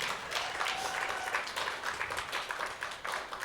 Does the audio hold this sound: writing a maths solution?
no